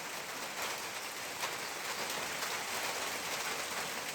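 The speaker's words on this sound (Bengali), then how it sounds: "দেখেন আবহাওয়া কেমন ঘুলোটা বৃষ্টি পড়ছে" Steady rain falls over a paddy field where farmers are transplanting rice, making a continuous, even hiss of dense drops that holds at a moderate level throughout with no voices.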